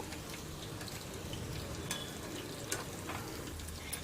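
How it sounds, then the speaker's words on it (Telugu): Chicken 65 pieces deep-fry in hot oil, giving a soft, even bubbling sizzle with scattered crackles and pops, steady and fairly quiet throughout with no voices. "చూడండి బాగా ఫ్రై అయింది"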